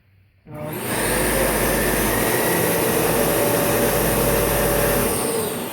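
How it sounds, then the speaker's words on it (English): A Dyson Cinetic Big Ball Animal Plus Allergy vacuum cleaner switches on and runs with a loud, steady whooshing whine, close and alone after a moment of quiet. "So we're gonna turn on the vacuum."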